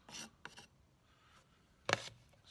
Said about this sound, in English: always working back along the edge to scrape off any excess